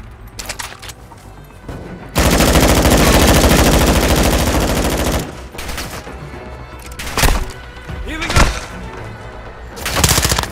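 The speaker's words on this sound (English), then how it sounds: "You are taking effective fire." Gunfire in Call of Duty: Modern Warfare II comes as a long loud burst of automatic fire, then several separate heavy shots and thuds, with short spoken game callouts between them.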